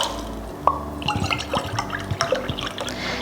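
Water pours into a pot in a home kitchen for a simple syrup, with splashy, dripping bursts and a few clinks against the metal, close and moderately loud with no talk.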